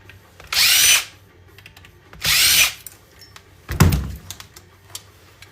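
Power drill removing screws from electronics while recycling power supplies, two loud sustained whirring bursts close up, followed by a clunking thud and faint handling noises.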